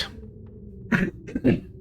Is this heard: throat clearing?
yes